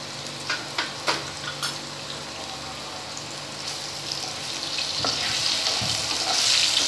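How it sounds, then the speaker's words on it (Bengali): Taro root pieces fry in oil sprinkled with salt and turmeric, producing a steady sizzle that grows louder toward the end, with a few light utensil taps early on. "নুনে একটু সামান্য নুন আর একটু হলুদ ছড়িয়ে ভেজে নেবো হালকা করে।"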